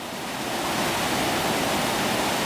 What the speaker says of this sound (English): These are the waterfalls on the Cessnock Water, close to Craigmill.